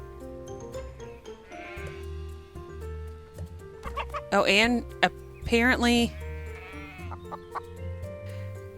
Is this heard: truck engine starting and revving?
no